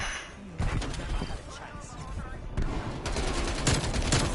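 Rapid gunfire in a Call of Duty match, with dense bursts of shots rolling on throughout and heavy impacts mixed in, while a voice talks over the action.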